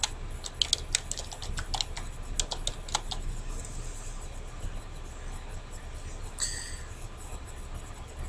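Fast, light typing on a computer keyboard at a desk, with uneven bursts of crisp key clicks for several seconds, then a pause and a few last taps, all fairly quiet against a soft room hum.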